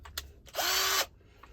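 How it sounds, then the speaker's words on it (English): A cordless power drill undoing a screw on a broken Remis or Seitz blind in an Autotrail motorhome: one short, close whir lasting about half a second, with quiet handling noise around it. "Now I just use a drill"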